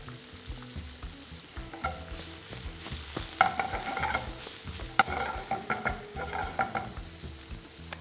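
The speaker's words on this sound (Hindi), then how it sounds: "गार्लिक जैसे ही ब्राउन होना शुरू होगा, then I will put some chop onions." Chopped onions going into oil with browning garlic in a pan for chicken lollipop sauce: a steady close sizzle with scraping, clattering stirring strokes and a few sharper knocks of a utensil against the pan.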